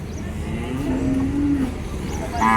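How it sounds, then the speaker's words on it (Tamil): Native cattle, bulls and heifers, at the Vaniyambadi cattle market; one animal gives a drawn-out, rising moo close by over the market murmur, and another short lowing call starts near the end. "நாட்டு காளைகள் வந்து வந்துருக்காங்க இப்போ தான் கொண்டு வந்திருக்காங்க"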